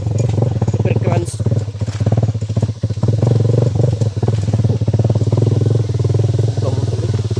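A motorcycle engine runs steadily and loudly close by, with a continuous low throb and some clattering, while people talk over it.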